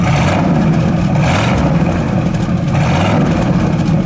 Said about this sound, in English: Give it a rev, please.